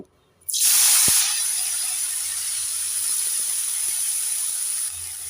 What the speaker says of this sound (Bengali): এবার ওই তেলের মধ্যে বাঁধাকপিটাকে আমি ভেজে নেব